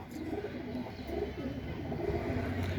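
A male Madras pigeon coos in soft, low rolling phrases, repeated steadily and close, over a constant hiss of background noise.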